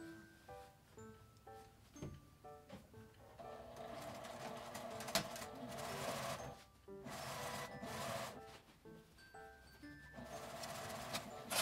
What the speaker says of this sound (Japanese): ここから印まで端ミシンをかけます。